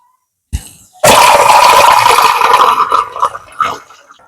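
Water pours into a pot of vegetable sambar on the stove, a sudden loud, steady gushing splash that runs for a few seconds before tapering off in uneven trickles.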